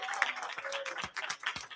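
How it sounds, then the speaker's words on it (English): Audience applause at a Pontiac School District student recognition ceremony, a brief patter of hands clapping at moderate level, continuous through the moment. "Please give our students another round of applause."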